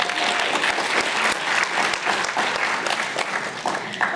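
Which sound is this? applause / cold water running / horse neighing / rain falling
applause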